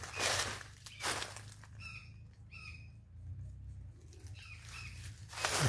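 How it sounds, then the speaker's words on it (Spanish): Small birds chirp and trill in short phrases at a moderate distance on a cocoa farm in Honduras, between a few louder rustling or gusting sounds. "Pueden escuchar los pajaritos."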